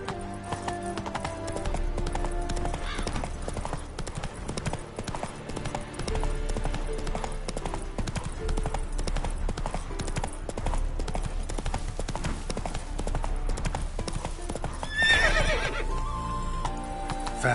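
Roach, the horse in The Witcher video game, gallops with steady clip-clop hoofbeats under game music, with a sharp whinny near the end.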